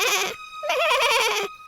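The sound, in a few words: little goats bleating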